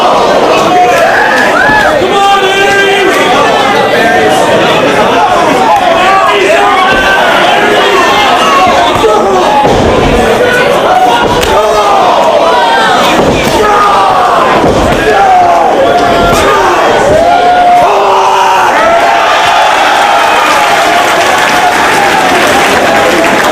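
Large wrestling crowd at a Ring of Honor indoor match between Low Ki and Austin Aries in 2005, loud split cheering and chanting with shouts and applause swelling throughout, steady and dense from start to finish.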